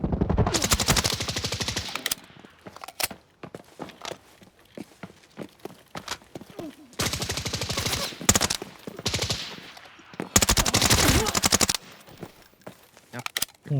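Bursts of rapid automatic gunfire crackle loudly in Arena Breakout Infinite at Great Trade Center, with sniper shots among them, separated by footsteps and quieter gaps while players talk over the action.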